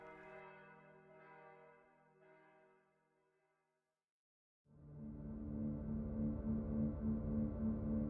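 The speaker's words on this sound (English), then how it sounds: "you hear the familiar dong, the bell of the Rat Cathedral" The bell of the Rat Cathedral tolls with ringing tones that fade into silence, then strikes again with a fuller, sustained resonance that carries on to the end.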